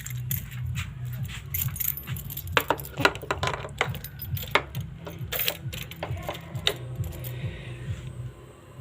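A Yamaha R15M motorcycle key on its ring jangles and clinks in a series of sharp metallic rattles, close and fairly clear over a low steady hum, with no talking.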